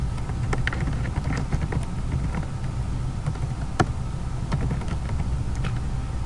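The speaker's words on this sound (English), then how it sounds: "I can type the company name" A company name being typed on a computer keyboard, a run of irregular close, crisp key clicks over a faint steady background hum, with no voices.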